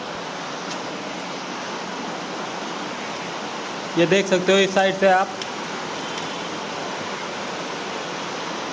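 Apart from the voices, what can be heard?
heavy monsoon rain in Mumbai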